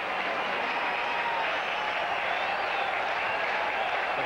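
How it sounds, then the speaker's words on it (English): A baseball crowd at a White Sox home game against the Blue Jays cheers and applauds in a steady, loud roar of sustained noise with no break. "The crowd on its feet,"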